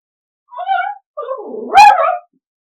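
A dog gives a couple of whining, yelping barks, one short cry then a longer, rising bark, close and fairly loud with silence on either side.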